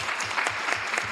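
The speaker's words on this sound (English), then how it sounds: "You can still give him applause." A brief burst of steady clapping from the audience at a city council meeting, moderately loud and continuous, with no talking over it.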